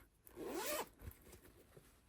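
A single quick pull of a zipper on a project bag, a close rasping zip lasting under a second, followed by faint handling noise.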